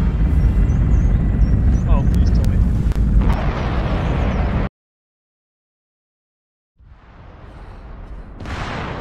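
Bombing explosions in a battle royale video game rumble heavily and loudly, with crackling debris and mechanical noise under voices talking. A sudden dead silence follows, then a low rumble returns and swells near the end.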